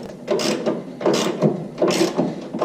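Ratchet wrench turning a socket on the front suspension of a 1998 Ford F150, close rhythmic bursts of rapid clicking in about four strokes, alone without talk.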